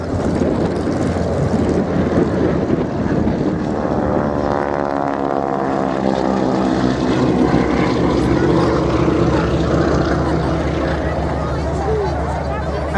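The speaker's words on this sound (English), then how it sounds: "the lead aircraft is in the characteristic orange livery of Aero Superbatics" Propeller aircraft, including a lead plane in orange livery, fly a wing-walking display at an airshow, giving a loud, continuous engine drone whose pitch sweeps as they pass, with a commentator talking over it.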